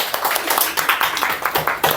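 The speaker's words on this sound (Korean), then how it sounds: "박수 한번 주세요" Clapping from a small audience at a sales seminar, quick, close claps in a brisk uneven rhythm lasting a couple of seconds.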